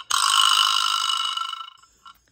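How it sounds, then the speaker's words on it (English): A vibraslap, a classroom percussion instrument, is struck once, giving a loud buzzing rattle that sustains and slowly fades over about two seconds. "The vibraslap's always a favorite."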